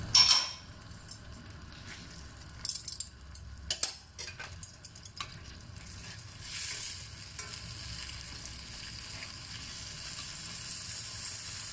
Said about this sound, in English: So let's fry all the bacon.